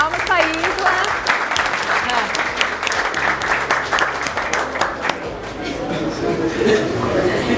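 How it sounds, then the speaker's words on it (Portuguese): A group claps steadily for several seconds, dense and fairly close, with a voice speaking over the applause at times. "Isla, muito bem, palmas pra Isla."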